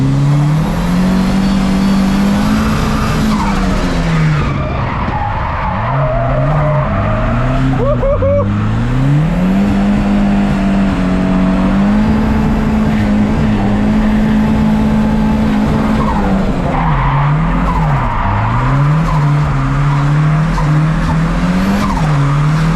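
300whp Volvo 740 drift car entering a corner at high speed, engine roaring and revving up and down for a long stretch while tires squeal and skid, loud and close from inside the car.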